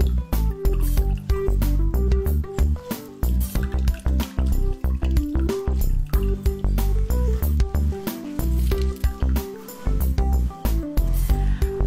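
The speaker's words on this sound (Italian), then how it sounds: "Ci strizziamo dentro un limone." A lemon is squeezed into a bowl of water while artichokes are prepared, giving close, soft liquid squishes and drips with clinks and handling noises.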